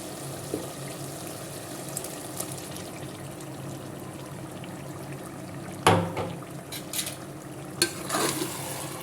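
Masala for chicken kulambu stirred and sautéed in hot oil, a steady low sizzle with a few sharp scraping clatters of a spoon against the pan near the end.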